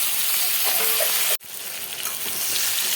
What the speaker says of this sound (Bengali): পেঁয়াজটা ভাজা ভাজা হয়ে গেছে, এবার আমি সবজিগুলো দিয়ে দেবো।